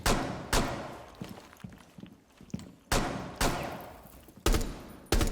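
Assault rifle shots in Rainbow Six Siege, several sharp, loud single reports spaced irregularly with decaying tails, with small thuds between them.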